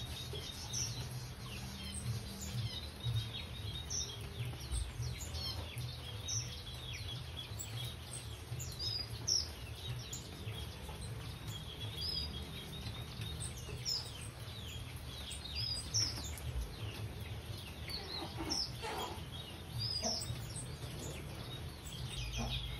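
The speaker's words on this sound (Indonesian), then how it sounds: "Ada juga sepasang burung manyar" Small weaver birds, golden-headed, chirping and twittering in scattered bursts in an aviary over a low steady background hum, fairly faint and distant.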